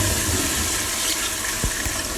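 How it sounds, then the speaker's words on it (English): An American Standard toilet rated at 1.5 gallons per flush rushes loudly and close, a dense continuous swirl of water with a couple of brief low gurgles near the end. "This standard-of-the-art toilet uses only the best, finest water in order to flush all that waste down the drain"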